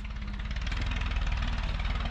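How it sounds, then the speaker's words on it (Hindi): A tractor pulling a trolley rumbles past on a road above, its diesel engine chugging with a low, steady knocking pulse at close to moderate distance in a valley village, with no voices. "तो ऊपर से ट्रैक्टर ट्रॉली जा रही है।"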